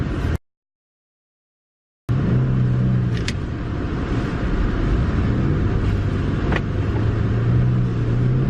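A rear-wheel-drive car in eight inches of snow runs with a low, steady engine rumble as it creeps slowly backward toward a driveway, with a brief gap of silence near the start.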